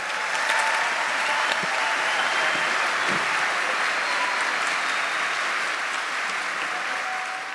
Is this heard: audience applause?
yes